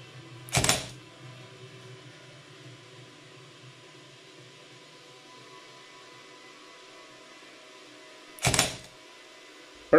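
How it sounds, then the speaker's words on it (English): Two sharp mechanical camera shutter clicks, triggered by a laser, close and loud, separated by several seconds of quiet hum, with a third click beginning at the very end. "Can you hear the shutter?"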